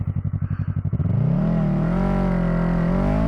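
A Yamaha YZF-R3 motorcycle idles with a loud pulsing chug, then its engine snaps to full throttle from a stop, the revs climbing into a strong, steady rising whine close by, with no talking.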